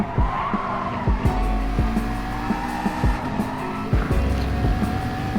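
A Gr. 3 race car in Gran Turismo Sport on the Sardegna Road Track B circuit, its engine droning steadily with repeated throttle blips and tire scrubbing as it powers out of a corner, loud and continuous.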